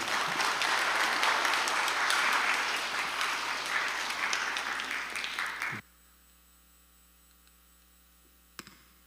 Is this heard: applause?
yes